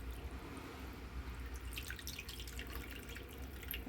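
Water trickles and drips into a cooking pot while a quick Haitian soup is being made, a faint tap-like pour with scattered droplets growing busier toward the end, no voices.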